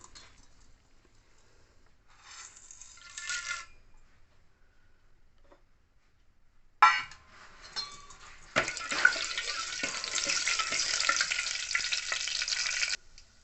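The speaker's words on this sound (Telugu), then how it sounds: "ఇప్పుడు తాలింపు పెట్టుకుందాం ఫ్రెండ్స్" Spices for a tadka hit hot oil with a sudden loud crackle, then settle into a steady, dense sizzle and spatter that fills the second half, preceded by quieter stirring and clinking in the pan.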